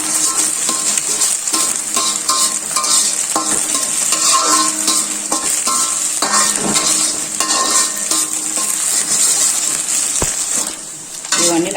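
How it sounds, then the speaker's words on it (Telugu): Chopped vegetables and egg fried together in a pan for chicken fried rice, a steady close sizzle running throughout with scraping spatula strokes and light metallic clinks, no talking. "ఇప్పుడు ఈ కూరగాయ ముక్కల్ని కూడా దీంట్లోకి అనేద్దాం. దీంట్లోకి అనేసి బాగా కలుపుకోవాలి."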